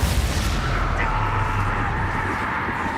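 In the Hogwarts Legacy video game, a Confringo blast spell explodes during a fight. A loud, dense roar of combat noise follows a sharp burst at the start and stays sustained throughout.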